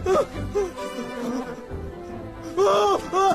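Close, loud buzzing of a bee hovering near a person in a drama scene, a steady droning hum with wavering pitch that swells in short bursts toward the end.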